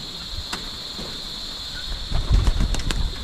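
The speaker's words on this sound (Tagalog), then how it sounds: "Marami na po yung kalapati natin." Pigeons in a farmyard loft flapping their wings, a few soft flutters early and then a louder cluster of close wingbeats near the end over a steady insect-like background hiss.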